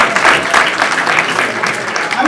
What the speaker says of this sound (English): you should also give a round of applause to yourselves for coming out here this Saturday afternoon